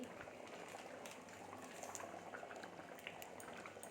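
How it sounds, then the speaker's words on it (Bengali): Aloo dum curry gravy bubbles at a low steady boil in a pot, a soft continuous burble with occasional small pops, fairly quiet and close. "এদিকে আলুর দমটা ফুটে গেছে, দেখো ঝোল ফুটে গেছে।"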